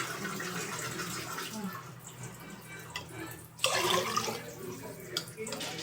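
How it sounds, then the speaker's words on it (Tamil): Water is poured into a pot of sambar cooking with cut vegetables such as carrot, a continuous splashing gush with a louder surge midway and faint background noise. "நல்லா வச்சிங்கன்னா தண்ணி நிறைய ஊற்றணுனாலும் ஊற்றிக்கலாம்."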